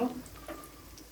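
Chopped onion sizzles in hot oil in a pan for a chicken malai gravy, a steady close frying hiss with a brief louder crackle at the start.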